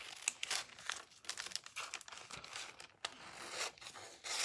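Crinkly cutting and rustling of a cellophane sheet for a junk journal craft project, with several close, brisk snips and crackles following one another over a few seconds, no talking.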